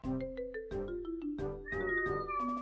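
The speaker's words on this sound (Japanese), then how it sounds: "猫泣いてる。" A cat meows several times in short, close, tonal calls against quiet, with no talking.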